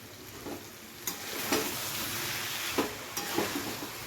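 Cabbage curry with potatoes and a fish head is stirred in a pan, a quiet bubbling sizzle with a few soft scrapes and clacks of the spatula spaced through it.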